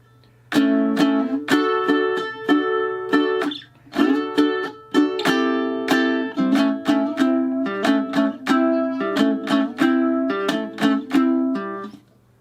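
A plucked ukulele plays a Delta blues intro alone, with bright strummed chords and single-note runs in a loose, halting rhythm.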